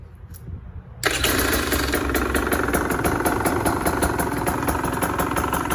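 A 2023 KTM 125sx two-stroke dirt bike with an FMF exhaust starts abruptly after a short quiet lead-in, then settles into a steady, buzzy idle that stays loud and close with no talk over it.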